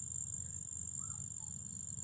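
Grasshoppers among daylilies in a garden keep up a faint, steady chirping buzz throughout, blended with a high insect hiss and low background hum.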